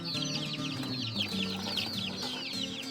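A flock of chickens clucks and chirps continuously nearby, overlapping calls forming a busy, steady farmyard chatter.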